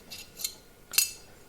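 A 1911 pistol trigger dropping into the frame during reassembly: two faint, light metallic clicks close up, the second slightly louder, with no talk.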